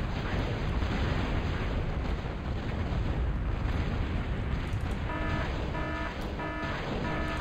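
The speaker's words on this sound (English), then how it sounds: "now I've got artillery firing on him" Artillery fire in a real-time strategy battle on a corrupted island map, heard as a continuous, dense roar of booming shots and blasts with faint electronic beeps toward the end.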